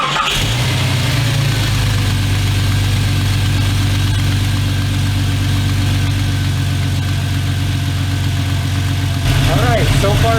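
A Jeep 4.0 engine cranks and catches, then idles steadily and loudly up close, a continuous low rumble that holds for several seconds with a brief change near the end.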